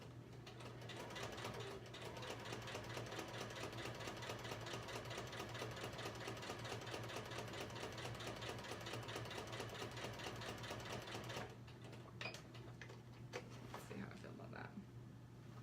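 A sewing machine stitches a medallion star quilt with a short stitch length, a steady fast mechanical rattle and hum close by that slows and stops near the end, with a person speaking briefly.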